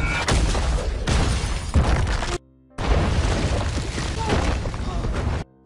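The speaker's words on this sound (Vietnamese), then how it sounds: "người thợ giặt quyết định kích nổ mìn cài sẵn." A pre-set mine detonates in a South Korean spy thriller, giving a loud, sustained broadband blast with rumbling debris and crashing. It cuts out briefly for a moment, then the roar resumes just as heavily.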